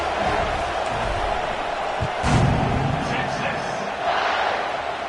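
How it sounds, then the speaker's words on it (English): Stadium crowd at a college football game buzzing after a 1-yard touchdown plunge, a steady broad roar with a few louder swells and thumps, heard from within the stands. "this crowd is buzzing after that last score"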